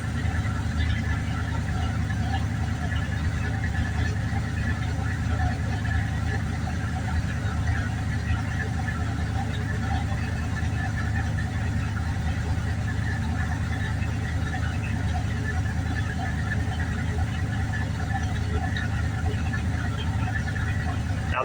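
A 1986 Dodge D-150 pickup with a carburetor idles steadily in cold weather shortly after a cold start, a low even rumble that runs unbroken throughout without talk.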